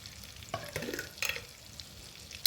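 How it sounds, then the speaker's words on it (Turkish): Butter in a pan on the stove makes a short, quiet burst of sizzling and crackling that fades after a second or so. "Bu arada ocağımıza 2-3 yemek kaşığı kadar tereyağı koydum."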